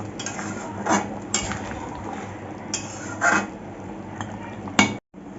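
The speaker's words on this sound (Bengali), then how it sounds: "দিয়ে ভালো করে নাড়িয়ে নিচ্ছি" A spoon scrapes and clinks steadily against a pan of dhaba-style chicken curry, with a few sharper knocks of metal on metal and a brief dip to silence near the end.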